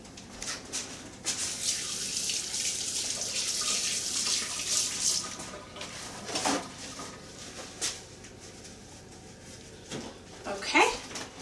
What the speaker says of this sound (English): Let me wash my hands for just a sec.